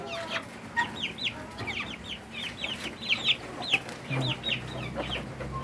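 Hybrid chicks and chickens on a Philippine farm cluck and cheep in quick repeated calls, many short bursts close by over faint background noise.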